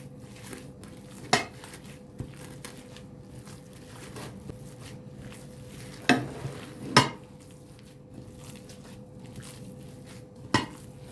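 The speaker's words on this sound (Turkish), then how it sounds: "Kıymayı tuz ve karabiberle karıştırıyorum." Minced meat is mixed with salt and black pepper: a soft, continuous stirring punctuated by a few sharp clinks and knocks of a utensil against the bowl, heard close with no talking.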